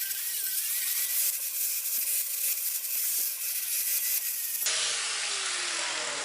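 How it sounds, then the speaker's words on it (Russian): Steady abrasive grinding of a weld seam on a steel profile pipe, a continuous loud rasping with a faint whine, shifting in tone near the end as the disc presses differently. "После сварки, как обычно, зачищаем сварочный шов"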